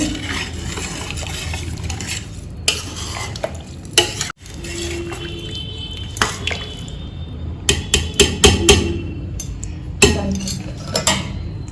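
A homemade hair oil mixture stirred and scraped in a hot pan, with sizzling under repeated clattering spoon strokes and scrapes, some quick bursts clustered toward the end.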